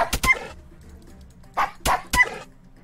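Dogs from the Wargroove video game give short, sharp yelps and barks, two quick ones and then a group of three close together, loud and near over near silence.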